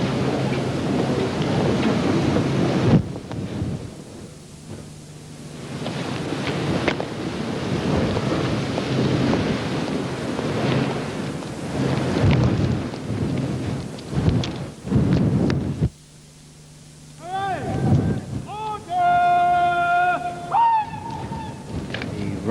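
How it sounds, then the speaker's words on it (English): Rain falls steadily with low rumbling and gusting wind at an outdoor military parade, loud and continuous for most of the stretch, with a brief drop and later a tonal whistle-like call near the end. "Rain has stopped now"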